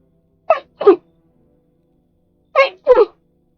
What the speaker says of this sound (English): I apologize there. I was, sneezing, so bless me.